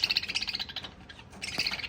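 Parrots chirp close by in a village courtyard, a quick run of bright, repeated tweets that pause briefly and then resume, with no talk.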